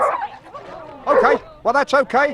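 Dogs at an outdoor park event yip, whimper and bark in quick close bursts during a brief scuffle, with someone talking over them.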